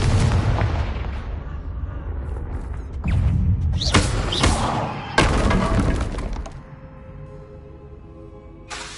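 Confringo fire spell blasts in the video game Hogwarts Legacy, loud crackling bursts with shattering, debris-like crashes that repeat in waves before fading to a softer rumbling tail.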